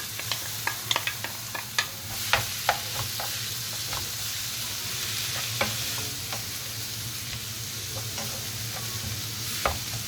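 Onion sizzles steadily in olive oil in a pan, a continuous close frying hiss broken by scattered sharp pops and taps of a utensil against the pan.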